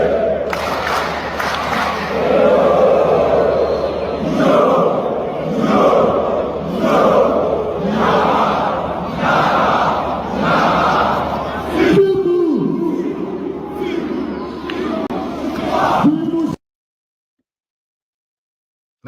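Football crowd chanting and roaring in loud, continuous waves, with rhythmic swells suggesting a sung chant, before cutting off abruptly near the end.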